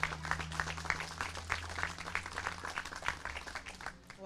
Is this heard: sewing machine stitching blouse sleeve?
no